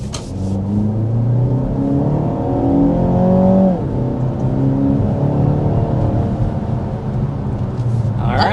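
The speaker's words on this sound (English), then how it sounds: "let's go ahead and start with a hard acceleration." A 2025 BMW X1 SUV accelerating hard: a loud, close engine rising steadily in pitch through the gears, with a clear upshift midway, followed by another long climbing pull.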